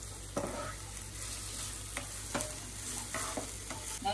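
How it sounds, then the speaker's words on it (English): Onions fry in browned ginger garlic paste, giving a soft, steady sizzle broken by several scraping strokes of a stirring spoon, quiet and close. "Cook these onions for 1 or 2 minutes till it becomes translucent."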